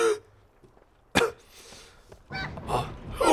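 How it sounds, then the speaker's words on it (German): A single sharp cough from a person playing an online role-playing game, loud and close, followed by faint background noise and then muffled, indistinct voice-like sounds. "Husten."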